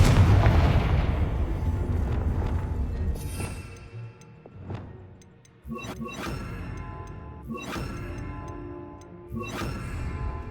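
Explosive Bombarda and Confringo spells in the Hogwarts Legacy video game, several loud booming blasts and whooshes bursting in quick succession over a dense rumbling game soundscape.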